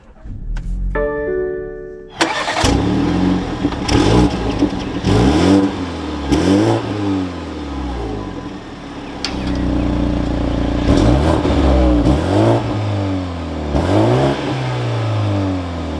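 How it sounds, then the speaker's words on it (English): A 2022 BMW 230i turbo four-cylinder cranks and fires after a short chime, then settles into a series of sharp throttle blips that swell and fall back repeatedly, loud and close, with no talking. "But let's fire this 230i up now."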